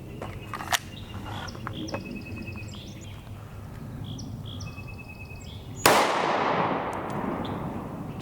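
A single sharp 5.7x28mm gunshot from a 4.75 inch OEM barrel cracks loudly outdoors and rings away with a long, fading tail. Faint chirps and scattered small clicks come before it.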